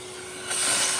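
A vacuum cleaner sucks up drilling debris from freshly drilled holes in an MD600N helicopter floor, its steady hiss rising abruptly midway to a louder, close-up roaring whoosh, with no voices.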